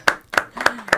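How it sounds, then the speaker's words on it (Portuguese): A few sharp, evenly spaced hand claps, four in about a second, close and clear, as a live audience begins applauding a guest, Dona Laura, being welcomed onto a stage. "Senhoras e senhores, uma salva de palmas para a Dona Laura"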